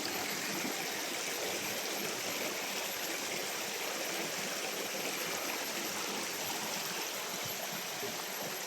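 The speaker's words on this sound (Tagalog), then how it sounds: "So na yung sapa" A creek flows in a steady, close, full rush of water, constant from start to finish with no voices over it.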